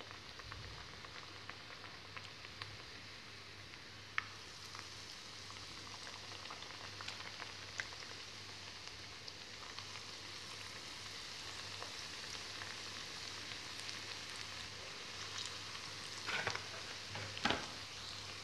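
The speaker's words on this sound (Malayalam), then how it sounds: "ഇത് നല്ലപോലെ ഫ്രൈ ആയി വരും." Batter-coated snacks deep frying in hot oil, a steady, low bubbling hiss running throughout with a few sharper crackles and pops toward the end, fairly quiet and without voices.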